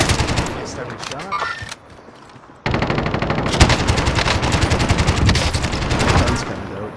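Rapid automatic gunfire from a video game, loud and continuous bursts of shots that pause briefly and then resume in a fast steady rattle, with players' voices talking faintly underneath.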